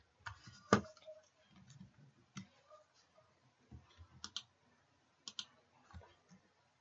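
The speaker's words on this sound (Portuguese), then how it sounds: "tô caminhando com o teclado, apertando aqui para mover para o lado, até ficar na posição que eu quero." Computer keyboard keys are pressed in sparse, irregular clicks, some single and some in quick pairs, faint and close with quiet gaps between them.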